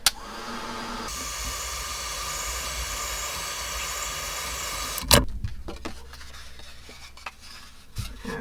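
A heat tool blows a loud, steady hiss over a freshly stenciled kraft card for about five seconds, then clicks off. Quiet handling sounds and light taps follow.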